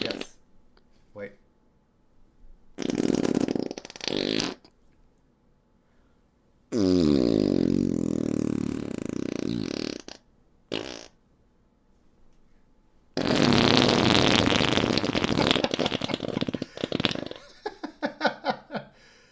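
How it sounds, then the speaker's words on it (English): Loud, long fart sound effects played over a game stream, several blasts of varying length separated by pauses, ending in a stuttering run of short bursts. "Thank you, Joe Schmo, for farting all over the screen."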